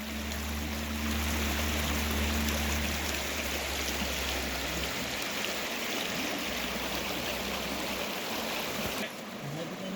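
Stream running right beside a five-acre plot with a house and cardamom plantation in Idukki, a continuous close rushing wash of flowing water that lasts throughout, with a low hum in the background early on.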